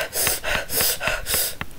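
A person imitates the heavy breathing heard in a horror game, with rhythmic loud, close, raspy inhales and exhales repeating about three times in quick succession.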